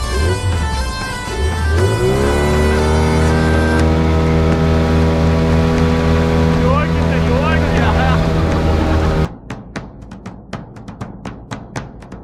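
A motorboat towing a buoy on the water, its engine a steady loud drone with harmonic hum that rises as it speeds up, then cuts to scattered knocks and splashes near the end.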